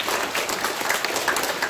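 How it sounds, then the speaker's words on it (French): Steady applause from a live conference audience in Bordeaux honouring the sound designer, a dense wash of many hands clapping at an even level throughout, with no voices over it. "Pareil, petit applaudissement pour lui."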